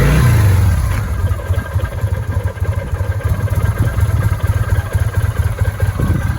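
The 803 cc V-twin of a 2005 Kawasaki Vulcan VN800 motorcycle idles loudly close by after a brief revving start, with rain falling and the engine's even pulsing throb holding steady, and no speech.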